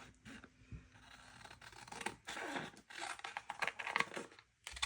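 Scissors cut an envelope in half, giving a short run of quiet paper snips and crisp rustling bursts, close by and uneven in rhythm.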